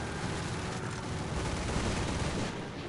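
Aircraft cannons firing in a WWII-style air combat video game, a dense continuous rattle of rapid shots that fills the whole stretch at steady loudness with no talk over it.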